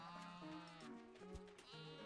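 Sheep bleat in a video game about catching and moving farm animals, several drawn-out wavering cries overlapping one another, loud and close with no talk.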